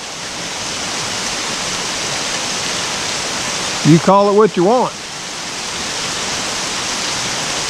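Steady rain falling long enough to pool into puddles on the ground, a continuous even hiss filling the whole clip, with someone briefly speaking over it midway.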